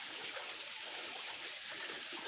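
Steady hiss of flowing cold water, a continuous rushing trickle close by with no pauses, filling the whole moment evenly.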